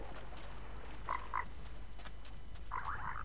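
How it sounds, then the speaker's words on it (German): Frogs croak in Minecraft in a desert area, giving short bursts of croaking at a moderate distance over a steady low ambient hum. "Sumpfgeräusche in der Wüste, Frösche quaken."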